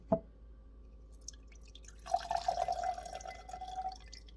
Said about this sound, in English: After 3 days, you pour off your liquid.